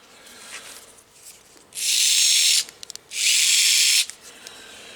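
A cordless electric screwdriver that charges over Type-C runs in two steady, loud bursts of just under a second each with a short pause between, followed by small clicks, in a quiet setting with no talk.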